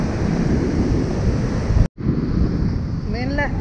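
Loud sea waves rush and break on a lonely beach, a dense continuous roar with heavy wind buffeting the microphone and a brief dropout midway, followed by faint bird-like chirps near the end.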